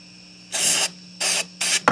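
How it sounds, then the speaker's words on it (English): Three short bursts of electronics cleaner sprayed from an aerosol can into a guitar's electronics hiss loudly up close, separated by brief pauses, over a low steady hum. "this is what I use to spray electronics"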